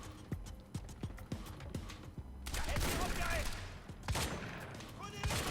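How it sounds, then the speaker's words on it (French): Pump-action shotgun fire in the video game Quantum Break, a run of sharp blasts with mechanical clatter and chaotic action noise, while someone talks over it. "tu pourras pas faire grand chose avec un fusil à pompe finalement"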